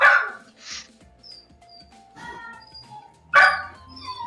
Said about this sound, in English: there's gonna be loud barks in my room